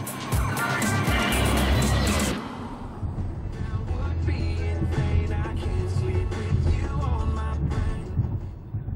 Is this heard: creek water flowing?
no